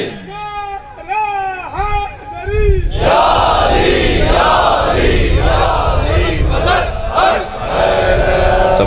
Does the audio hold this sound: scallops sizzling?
no